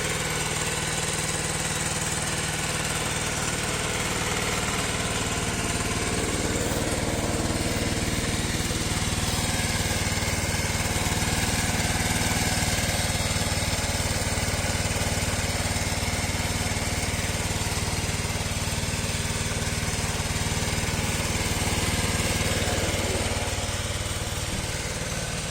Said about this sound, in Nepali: बाइकको चाहिँ कार्बन क्लिनिङ गर्दैछन्।